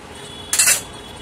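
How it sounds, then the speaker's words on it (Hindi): A single short metallic clatter as a lid is set onto a pressure cooker, sharp and close, with quiet room tone before and after. "कुकर का ढक्कन ढक देते हैं।"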